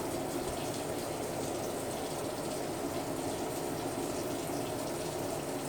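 Tap water running over a pot used for hard crack candy, a steady close rushing and splashing flow that continues without a break and without talk.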